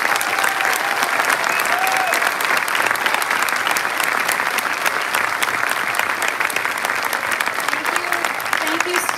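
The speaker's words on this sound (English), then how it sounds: "Can we give our students one more round of applause?" A school audience applauds students after a middle and high school Christmas concert, with loud, dense clapping that runs unbroken and evenly for about nine seconds, and a few voices cheer faintly underneath.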